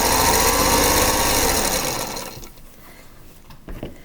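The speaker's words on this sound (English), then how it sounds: "Sewing this last border is pretty easy." A sewing machine stitching the border of a scrappy quilt runs loud and steady with a fast whirring motor hum, then stops about halfway through, leaving quiet room tone with a few small handling clicks.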